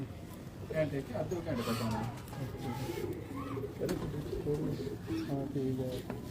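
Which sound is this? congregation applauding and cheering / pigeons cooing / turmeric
pigeons cooing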